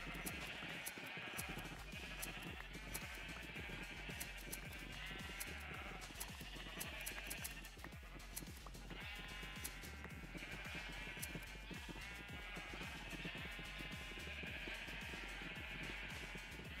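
Minecraft sheep bleat over and over in a continuous, busy chorus, with wavering cries overlapping on a steady background and no speech.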